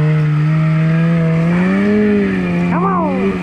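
A Gen 4 Ski-Doo 850 turbo snowmobile engine revs loudly up close in the mountain backcountry, holding a droning pitch that rises and falls, then jumps sharply higher near the end.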